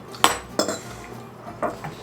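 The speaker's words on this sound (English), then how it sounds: "I'm just going to eat it out of the pan" A fork scraping and clinking against a pie pan while someone eats apple fluff pie straight from it, three distinct metallic scrapes, close and fairly loud.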